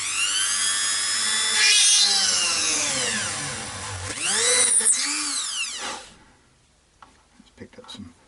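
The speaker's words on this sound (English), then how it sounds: "I want to drill down into these, and then so this is just the pilot hole." A power drill bores pilot holes into an Ibanez Gio electric guitar body, making two loud whining runs that rise and fall in pitch, then cuts off and leaves quiet handling clicks.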